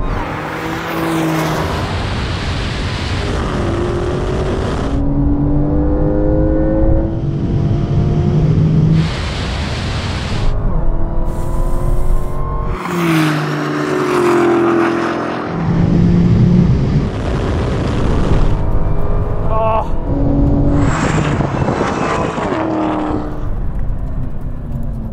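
A Dodge Challenger Demon and a Porsche 911 Turbo S drag race a standing quarter mile, with loud engines revving and roaring through gear changes, rising and falling in pitch as the cars accelerate hard and pass.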